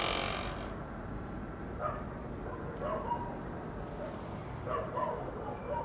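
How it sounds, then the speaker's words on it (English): Dogs bark outside at night around an old palace, giving faint, scattered yips and barks in the distance over a steady hiss of background noise. "I can hear dogs all around us."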